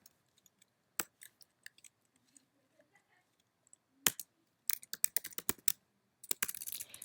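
Typing code on a computer keyboard, with sparse soft taps at first and then bursts of sharp, close key clicks in quick clusters, separated by short quiet pauses.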